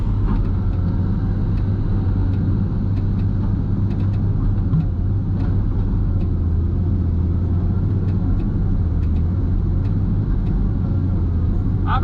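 A truck engine idles at a log-sorting yard with a steady, loud low rumble that runs without a break for the whole stretch, and no voices are heard.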